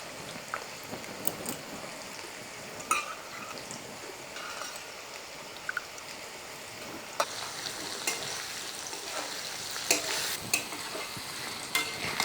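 Paneer cubes frying in leftover potato-frying oil with turmeric, a steady close sizzle with occasional pops and sharp crackles, alone without talk.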